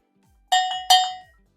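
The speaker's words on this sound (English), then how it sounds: "I'm going to ring my bell." A hand bell is rung twice in quick succession indoors, each bright metallic strike ringing out and decaying, close and fairly loud with no talk over it.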